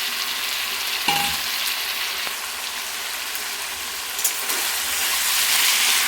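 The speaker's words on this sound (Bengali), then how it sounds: "নাড়াচড়া করার পরে আমি এখানে দিয়ে দেবো কেটে রাখা পুঁই শাক।" Rohu fish head and chopped Malabar spinach fry in a pan while being stirred, giving a soft, steady sizzle with a few scraping stirs, close and without talk.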